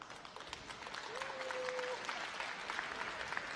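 Spectators at a 2019 freestyle swimming championship in Bonn give a ripple of applause. The clapping is scattered and faint, heard from a distance across the venue, with a brief whistle-like tone partway through.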